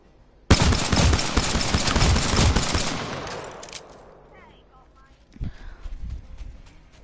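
An upgraded pistol in Apex Legends fires in a rapid, loud burst of shots that abruptly starts, then the sound tails off, followed later by a few scattered thuds and distant game noise.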